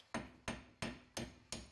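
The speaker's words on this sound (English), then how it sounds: "Now it's as easy as taking a hammer and knocking it out." Five sharp metallic hammer blows knocking out a front wheel stud on a Chrysler PT Cruiser, at a steady rhythm, close and ringing briefly after each hit.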